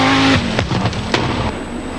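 Audi Quattro S1 rally car with its five-cylinder 20-valve engine on a special stage, a loud, close engine note that drops off sharply, followed by rasping bursts and a pop as it moves away.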